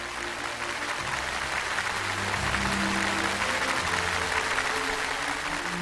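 Studio audience at a CCTV television show giving sustained applause, a dense, even roar of clapping heard slightly distant and alone, with no talking over it.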